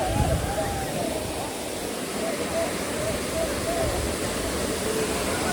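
Ganesh Waterfall near Dharampur: a dense, steady roar of falling water close by, with voices faintly audible over it.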